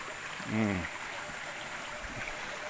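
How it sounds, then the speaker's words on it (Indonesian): Continuous rushing water from the Batang Bariria waterfall and river in Supayang, a broad steady roar, with a brief voice sounding over it near the start. "Air ini, sungai ini namanya air Bariria. Air terjun Batang Bariria."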